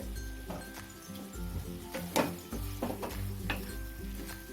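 Stirring sauce in a pan while cooking egg chilli, with soft scraping and light sizzling, a few metallic clinks of utensil against pan, close and moderately quiet.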